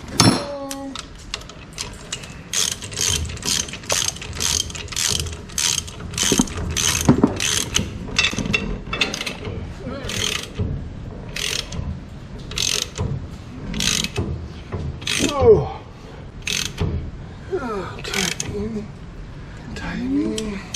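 A hand ratchet clicks in quick rhythmic bursts while a Bronco's drum brakes are being put back together, close and crisp, with someone talking in between the strokes.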